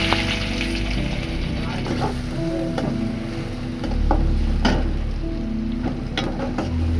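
Sliced onion frying in hot oil in a pan for okra bhaji, with a loud steady sizzle, occasional stirring scrapes and clicks, heard close up.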